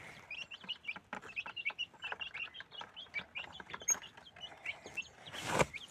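Chickens cluck and chirp in a farmyard, a steady run of short bright calls from several birds at close range, with a louder burst of noise near the end.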